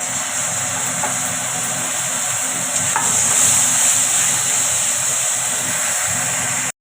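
Ginger and tomato fry in hot oil in a pan for a fish and eggplant curry, giving a steady broadband sizzle that holds evenly throughout and swells slightly midway, with no talking.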